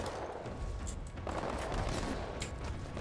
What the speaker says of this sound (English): I don't know who's shooting.